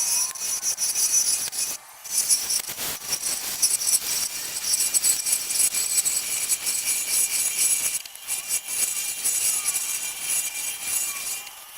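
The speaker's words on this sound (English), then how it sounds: "So as I started sanding down here" Wood and epoxy ring being sanded while spinning on a lathe: a continuous, close, raspy friction hiss with brief drops where the sandpaper lifts off, then resumes.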